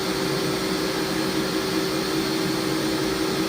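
Metal lathe spinning with no leadscrew gears engaged, a steady, close, continuous motor and gearing whine with an even hum throughout, no talk over it.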